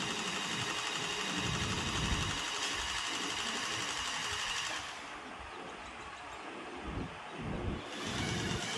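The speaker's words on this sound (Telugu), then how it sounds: "అది యూస్ చేశాక ఒకసారి మళ్ళీ రన్ చేస్తున్నారు మషిన్ని" An electronic stitching machine, freshly oiled during deep cleaning, runs with a steady close whirring and rhythmic mechanical chatter, briefly dropping in level midway before picking back up.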